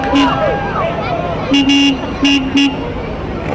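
Vehicles roll past in a small-town parade in Moira, a truck among them, with engine noise and road sound throughout and several short horn toots that come in pairs and spaced bursts, while people talk in the background.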